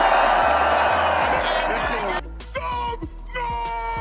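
A live esports crowd at a Fortnite FNCS event in Dusseldorf roars and cheers loudly in a big arena, with whoops and scattered clapping under an amplified announcer's voice, then thins out as music and sound effects continue.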